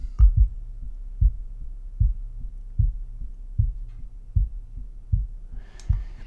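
A deep, booming low drum resonating around 60 hertz thuds in a steady, evenly spaced rhythm, each hit resonating briefly; no voices.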